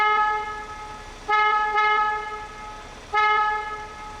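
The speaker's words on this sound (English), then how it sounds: "you have the little Toot, which is a secondary, quieter horn" Secondary, quieter toot horn of a 2024 Ineos Grenadier SUV, sounding three short, clear, steady tones of similar length with brief gaps between them, close and alone.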